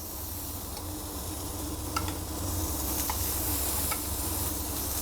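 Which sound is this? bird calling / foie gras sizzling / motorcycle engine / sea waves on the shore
foie gras sizzling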